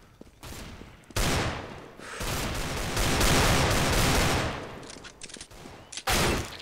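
Gunfire in Counter-Strike: Global Offensive, loud dense bursts of rapid shots running for several seconds with brief gaps and a final sharp volley, no voices over it.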